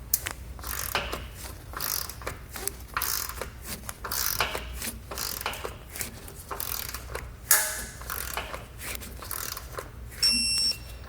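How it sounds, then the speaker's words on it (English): A torque wrench ratchets repeatedly as hardware on a Demco tabless base plate is tightened on a 2020 Jeep Cherokee, with quick irregular clicking bursts close up and a sharper click near the end. "you want to make sure you come back with a torque wrench, and we're going to torque all of our hardware down"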